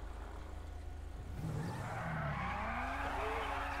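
Tires squeal as a car skids in the GTA video game, a sustained screech that rises halfway through over a constant engine drone.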